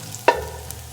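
Meat and onions searing in hot fat in a pan, a brief close sizzle with one sharp clank of a utensil against the pan, over a low steady hiss.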